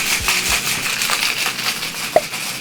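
Cocktail shaker packed with ice, sealed and shaken for a coffee cocktail: a steady, fairly loud rattling crunch of ice against the tin for several seconds, with one sharper knock near the end.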